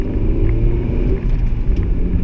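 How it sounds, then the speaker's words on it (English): A five-speed manual transmission car's engine pulls under acceleration with a loud, close, steady low rumble and growl, with no one speaking. "You listen to the engine."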